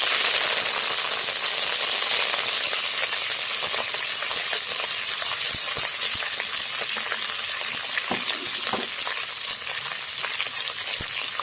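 Curry leaves fry in hot oil with a loud, steady, dense sizzle and crackle that carries on without a break, with small pops and a few faint clinks, and nobody speaks.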